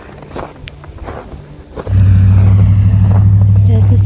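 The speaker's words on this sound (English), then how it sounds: "Spinning wheels." Car wheels spin in snow during a winter storm: after faint crunching footsteps, a loud, steady engine drone and whirring tire spin start abruptly and hold close by.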